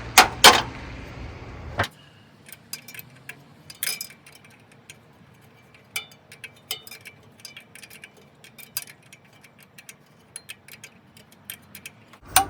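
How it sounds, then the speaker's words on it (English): Ratcheting wrench turning a fan clutch nut on a Jeep Cherokee XJ with slightly damaged threads, making close, sharp, irregular clicks spread across the stretch, with a few louder knocks near the start and no talking. "Gonna get this ratcheting wrench on there."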